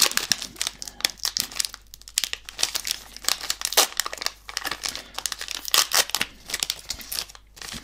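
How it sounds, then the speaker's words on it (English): Close, loud crinkling and tearing of foil wrappers as Japanese trading card booster packs are ripped open, in busy bursts of rustling throughout with no talking. "Little bit trickier, these Japanese packs to open."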